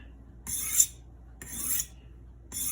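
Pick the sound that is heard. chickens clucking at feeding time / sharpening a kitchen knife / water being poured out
sharpening a kitchen knife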